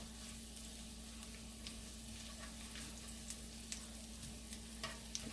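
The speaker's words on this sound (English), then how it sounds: "Let this cook for 1 minute. Stirring it occasionally." Thai basil chicken and vegetables stir-frying in a pan, a quiet continuous sizzle with occasional light scrapes and clicks of stirring, low and steady with no talking.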